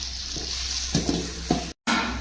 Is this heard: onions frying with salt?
yes